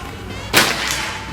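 A single sharp report from a PCP Predator Escobar air rifle during an accuracy shoot, a brief crack with a short tail, near and otherwise alone.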